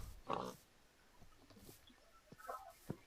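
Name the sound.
pigs oinking in the video game Minecraft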